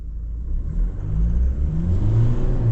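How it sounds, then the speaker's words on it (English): A 2.4-litre turbo GWM Cannon XSR ute accelerating at full throttle in drive, a deep, steady engine rumble building in loudness over a few seconds, close and continuous with no talk. "And I'll do it again in drive, full throttle."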